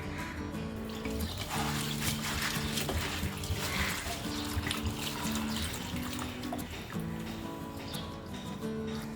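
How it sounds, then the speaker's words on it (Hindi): Flattened rice (poha) is rinsed with water in a bowl, splashing and sloshing close by, over a faint steady background hum. "हमने पोहा को 2-3 बार अच्छी तरह से पानी से धो लिया है।"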